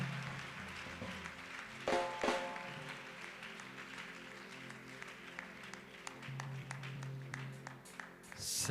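A church congregation applauds in praise during a worship service, with steady, moderately distant clapping that continues throughout and a brief swell partway through.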